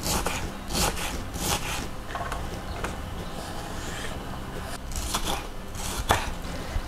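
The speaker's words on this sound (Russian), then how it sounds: "Мелким кубиком нарезаю красный перчик." Steady rapid knife chopping dicing red bell pepper on a board, dense rhythmic taps in bursts with brief lulls, close up and without speech.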